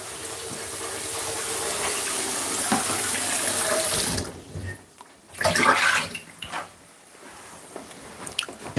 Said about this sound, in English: Pour some water.